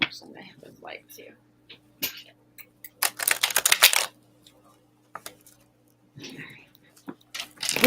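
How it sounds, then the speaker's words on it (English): Tarot cards are shuffled close to the microphone in a dense, crackling riffle burst lasting about a second, with softer card handling and quiet murmured speech around it. "Listen to the ruffle of our cards."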